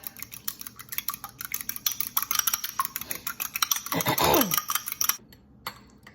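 Crushed pork rinds and a cracked egg stirred together in a bowl for keto salmon patties, with a utensil scraping and clinking close up in quick, irregular strokes that build and then stop abruptly, no talking.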